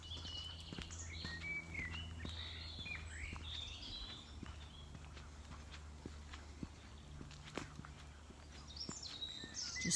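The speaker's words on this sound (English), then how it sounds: "I think you can probably hear all the birds. They're all out singing and talking to each other." Birds chirp and sing faintly outdoors on a sunny day along a path by a burn, with scattered high calls over soft footsteps and low background rumble.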